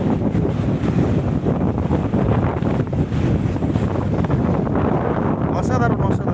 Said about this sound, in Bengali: উত্তাল জলোচ্ছ্বাস উত্তাল পুরো ঢেউটা দেখতে পাচ্ছেন আপনারা দেখুন